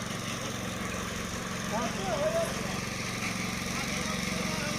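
A tractor engine runs steadily in the background at a constant drone, a dense mid and low rumble with faint faraway voices mixed in.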